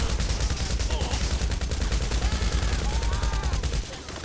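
Sustained automatic gunfire from a Grand Theft Auto V firefight rattles loud and continuous, dense rapid shots filling the scene before cutting off near the end.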